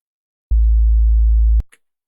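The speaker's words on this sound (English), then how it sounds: "So here's a sine wave." A steady, loud low-pitched sine wave tone from an LMMS synth plays alone for about a second, starting and stopping abruptly with clicks at each end.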